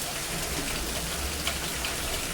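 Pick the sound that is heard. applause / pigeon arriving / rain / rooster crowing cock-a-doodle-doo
rain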